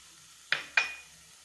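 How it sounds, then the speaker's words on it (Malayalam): Grated coconut with curry leaves roasting in a pan over a medium flame for a Kerala fish curry paste. Two quick, close stirring scrapes with a soft sizzle sound alone over quiet background hiss. "എടുത്തു വച്ചിരിക്കുന്ന പകുതി കറിവേപ്പിലയും ചേർത്ത് നമുക്ക് നന്നായിട്ട് തേങ്ങ വറുത്തെടുക്കാം"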